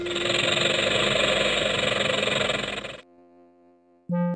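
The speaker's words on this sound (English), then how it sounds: "You're right. A rattlesnake goes." A rattlesnake's dry, continuous buzzing rattle from a children's zoo video game about baby animals, loud and steady for about three seconds, then cutting to a quiet musical jingle.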